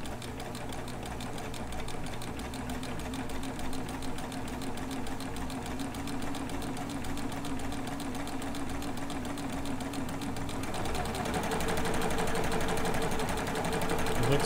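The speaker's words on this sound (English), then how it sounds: "So I'm going to go ahead and get this one stitched" A serger runs continuously while stitching a kimono, a steady rapid mechanical chatter close by that grows slightly louder toward the end, with no talking.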